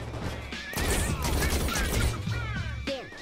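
Rapid gunfire from a hacked-in weapon in the video game Saints Row IV, sustained crackling shots with crashes and mechanical noise, under a murmur of game voices.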